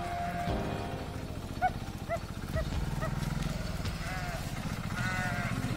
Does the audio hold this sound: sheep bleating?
yes